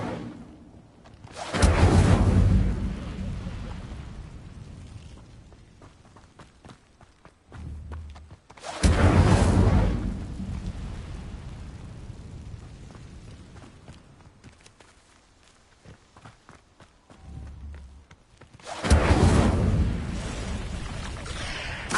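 Incendio fire spell in Hogwarts Legacy, three loud roaring fiery bursts spaced several seconds apart over a steady game background rumble.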